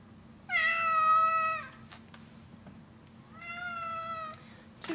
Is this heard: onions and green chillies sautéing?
no